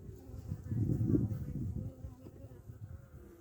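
Honeybees buzz in a steady, dense drone during a hive inspection late in the season, a close, continuous hum swelling slightly then settling, with no talk.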